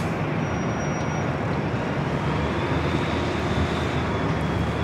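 A Sichuan Airlines Airbus A350-900 lands at LAX, its engines giving a steady, broad jet roar that holds evenly throughout with no voices.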